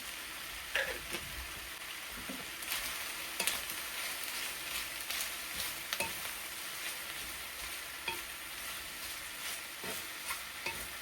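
Chopped onions sizzle in a pan, a continuous bright crackle with scattered utensil taps and scrapes over about eleven seconds, close but fairly quiet, no talking.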